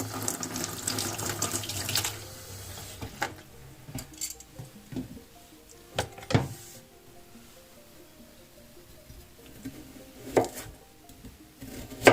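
Satoimo taro being washed under a running kitchen tap: water splashing and pouring close up, with intermittent knocks and rubbing of the roots in the sink, no talking.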